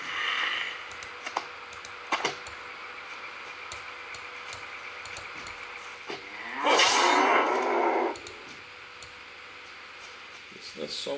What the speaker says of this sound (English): Something like Gexy likes to do, to kill cows